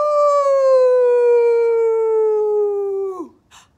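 A person imitates a wolf with one long, sustained howl that slowly falls in pitch and ends in a short drop, loud and close.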